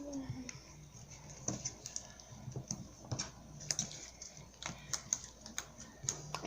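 Slime being worked by hand gives off a series of small sharp clicks and pops, irregular and fairly close, over a quiet room with faint voices.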